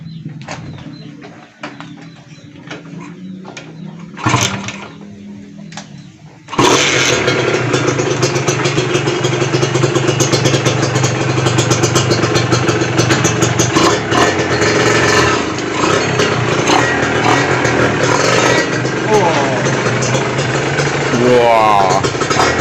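Kawasaki Ninja motorcycle fitted with a new clutch cable: after faint ticking and a brief crank, the engine catches and settles into a loud, steady, close idle with a rapid clattering rhythm that runs to the end.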